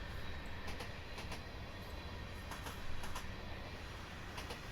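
A Union Pacific freight train rolls steadily past on the Laramie and Sherman line, a continuous rumble with rhythmic wheel clicks over rail joints, heard from trackside at moderate distance without talk.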